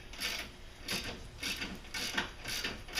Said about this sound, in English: I always like to remove my front bumper just using hand tools.